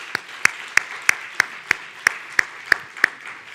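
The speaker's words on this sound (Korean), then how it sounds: "우리 목자들에게 따뜻한 격려의 박수 하겠습니다." A church congregation at a New Year special dawn prayer service claps in even unison, about ten sharp, regularly spaced claps over a faint room background.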